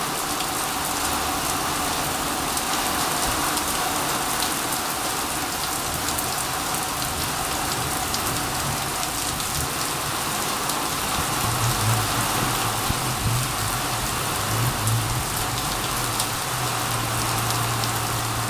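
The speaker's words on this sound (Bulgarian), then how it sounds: "Обаче, не ви знам, обаче страшен дъжд." Heavy rain pours steadily at a bus stop, a dense continuous hiss of drops hitting the pavement and shelter, close and loud, with a low rumble like a passing car partway through and no talking.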